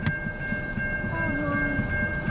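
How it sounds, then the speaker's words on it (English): A CN local freight train moves through at night with a steady rumble and rolling wheel noise. A high, sustained tonal squeal rides over it, probably brakes as it slows, close and fairly loud. "This is a night train and it's stopping?"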